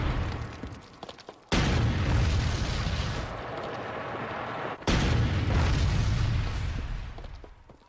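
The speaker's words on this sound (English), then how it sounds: "his wingman fire 3 rounds into it" Tank guns fire rounds at the last German defensive line outside Bastogne during the Battle of the Bulge: two heavy, close blasts, each followed by a long rolling rumble that slowly fades.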